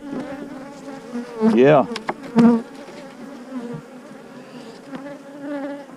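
Continuous close buzzing and droning of many bees around a salvaged beehive frame with comb and nectar, with a few louder passes near the microphone and a brief spoken word.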